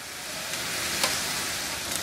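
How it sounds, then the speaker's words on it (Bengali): Chicken pieces fry in a pan over medium heat, browning with a steady close sizzle and faint crackles popping through, no voices. "মুরগির পিসগুলোকে প্রায় 5-6 মিনিট ভাজলাম, একটু বাদামি বাদামি করে ভাজছি।"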